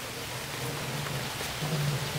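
Rain falls steadily in a cemetery, a dense, even hiss of drops with a faint low rumble beneath and no voices.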